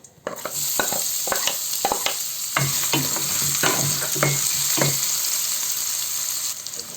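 Hot oil sizzles loudly and continuously as chopped garlic fries, with repeated sharp scraping and tapping of a spoon against the pan.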